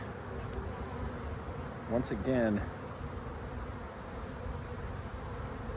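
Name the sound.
honeybees buzzing during hive inspection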